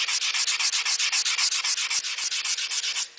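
Hand sanding stainless steel with 150-grit paper, a close, steady series of quick rasping back-and-forth strokes in an even rhythm, with no talking.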